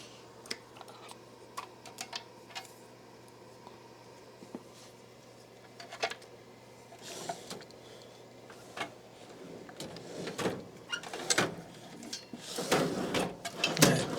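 Drawers opened and shut while rummaging for a cable in an electronics workshop: scattered clicks and knocks, then louder sliding and clattering toward the end, close by and without talk.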